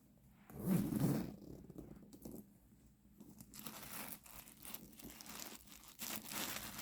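A leather Dooney & Bourke hobo handbag zipper is pulled open and closed with quiet rasping, mixed with soft crinkling and handling noises close by.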